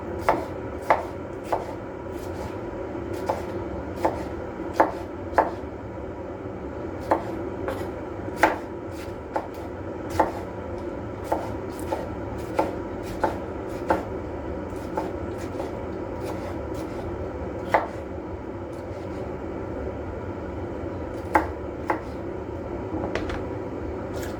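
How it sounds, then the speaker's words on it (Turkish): A knife chopping salad vegetables on a board, sharp regular knocks in bursts with short pauses, close and clear over a low background hum. "Salatamı doğrayacağım fakat sosuyla karıştırmayacağım."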